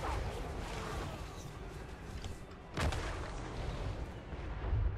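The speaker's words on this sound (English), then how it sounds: "The Magma Cannons are doing a great job for us here." Magma Cannons in a video game firing at a choke point, a dense rumble of repeated booming shots with a sharper blast near the middle and another toward the end, continuous and fairly loud.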